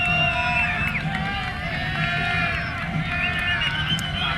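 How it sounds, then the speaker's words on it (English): A rugby league championship crowd in Jacksonville hoots, whistles and hollers in a dense, loud, continuous roar, with babble throughout and a commentator talking over it. "Lots of hooting and hollering right now."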